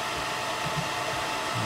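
A Mr Carve M1 Pro engraver runs with a steady, even fan-like whoosh, close and constant with no talking.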